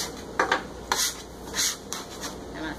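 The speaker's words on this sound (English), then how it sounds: "And then I use my bench scraper, which is one of my favorite tools in the kitchen," A bench scraper folds rolled-out dough over on a floured board in the kitchen, making several short, close scraping rubs spaced about half a second apart against a quiet background.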